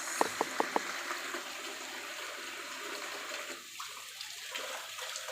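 Running water splashes and gurgles steadily as a ripe papaya is washed, with a few quick knocks at the start and no speech over the continuous flow.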